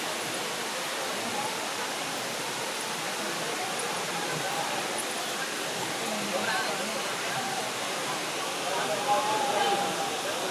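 Water from the Jalakamparai waterfall flows with a soft, steady hiss, fairly faint and continuous, with a low flow and no talk over it.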